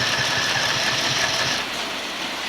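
A Chinese sewing machine stitches a zipper into a Davis tent with a steady, fast mechanical whir and needle rattle, running continuously close up and easing slightly near the end.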